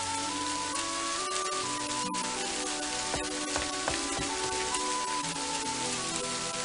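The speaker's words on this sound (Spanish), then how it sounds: "Sí que llueve, sí." Heavy rain pours steadily in a dense, even hiss of drops hitting surfaces, with a few louder splashes and knocks scattered through and no talking.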